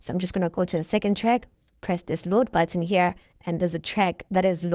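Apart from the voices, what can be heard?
None of the usual background noises is heard.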